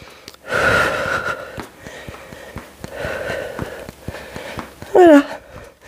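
During an at-home muscle-strengthening workout, a person takes forceful breaths in and out, with sharp gasping inhales and a loud close exhale near the end, over a steady rhythmic beat.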